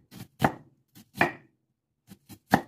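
A knife chops through onion for an apple, onion and parsley salad, making about eight crisp, separate cuts on a board in an uneven rhythm, close and fairly quiet, with no voices.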